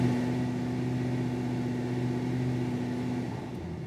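Pontiac Firebird Trans Am engine held at full throttle with a misfire keeping it near a constant 1900 RPM, giving a steady, loud, droning hum that holds even for about three seconds before easing slightly.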